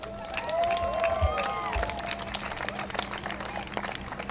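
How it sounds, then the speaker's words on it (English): Outdoor crowd at the Uptown Charlotte Heart Walk cheers and claps for heart disease and stroke survivors, a steady wash of applause with a few whoops, moderately distant. "giving them a roaring round of applause"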